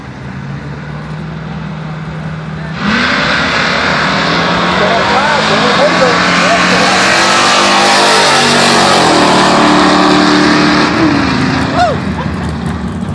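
A Camaro and a Chevy truck drag race at Paris Drag Strip. Loud engines roar, swell and rev through the run with full-throttle noise, and an announcer talks over it throughout.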